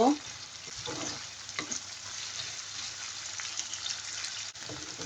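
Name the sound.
onions frying until soft for chola bhuna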